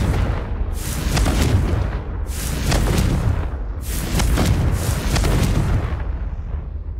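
Confringo fire-blast spell explosions in the video game Hogwarts Legacy: three loud, booming blasts in a row, each a broad roaring burst that swells and trails off, close and forceful.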